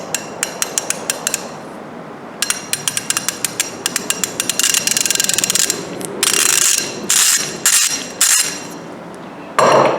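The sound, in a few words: Tekton ratchet mechanism clicking, older design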